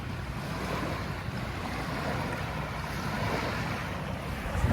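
Sea waves at the shore near Dapling, giving a steady, broad rush of surf mixed with wind buffeting the microphone, continuous and moderately loud with no voices.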